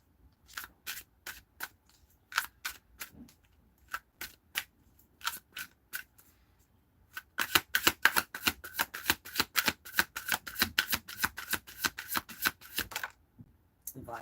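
A deck of cards being shuffled in several quick riffle bursts, then a long rapid run of crisp flicking snaps, close and clear with no talking.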